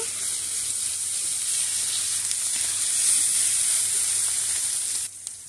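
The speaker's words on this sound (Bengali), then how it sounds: "এবার সমস্ত মশলাগুলো ভালো করে এপিট উপিট করে কষিয়ে নেব।" Ground turmeric and cumin sizzle in a hot pan as they are stir-fried for a taro stolon dish, a steady close frying hiss that drops away abruptly just before the end.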